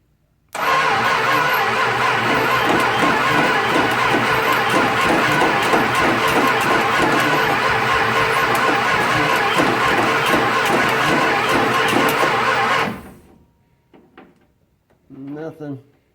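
A 1966 Plymouth Fury engine cranks steadily without catching, a loud rhythmic starter churn running about twelve seconds before cutting off, followed by brief faint clicks and a short voice.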